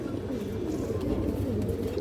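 Pigeons coo softly and continuously in a loft of old-line Tota female pigeons, the low rolling calls overlapping close by with faint rustling and no clear talk.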